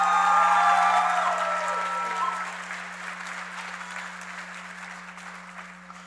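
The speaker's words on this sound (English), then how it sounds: "Can I get a round of applause?" An audience at an online graduation ceremony bursts into applause, loud at first and then tapering off steadily over several seconds, with a constant electrical hum underneath.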